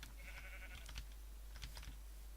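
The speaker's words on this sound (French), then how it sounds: "Je sais qu'ici il y a des moutons" Sheep in a video game bleat a few times over a steady low hum, with short clicky sounds like keyboard taps mixed in.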